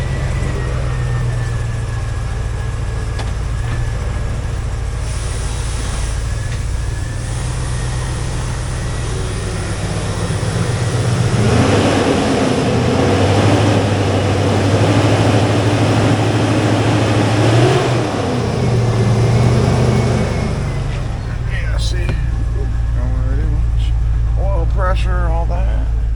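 A 2005 Hummer H2 with a 6.0L LQ4 V8 idles with a steady low drone, its pitch shifting as the transmission engages, while someone talks nearby.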